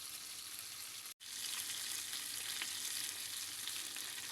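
Tilapia frying in oil in a pan, a steady dense sizzle that runs continuously, close and loud, broken only by one brief dropout near the start.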